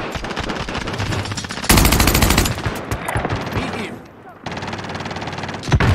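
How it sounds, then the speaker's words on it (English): Heavy gunfire in Call of Duty Warzone: dense bursts of automatic fire crackle nearly nonstop, with a louder, sharper volley in the middle, under faint in-game voice lines. "Taking heavy fire."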